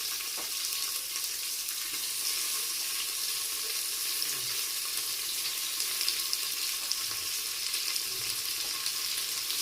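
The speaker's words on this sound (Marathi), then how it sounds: "आपण चांगलं परतून घेऊया आता आपला कांदा परत आलेला आहे त्याच्यात आपण हा शिकलेला टमॅटो टाकूया" Onion and tomato frying in a pan for mutton curry, a constant bright sizzle held close and even throughout, with faint stirring underneath.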